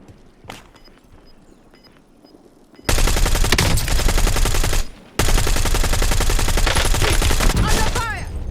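Rapid bursts of automatic gunfire in Call of Duty Warzone, loud and dense, starting after a quiet stretch, breaking off briefly, then resuming as a sustained near barrage.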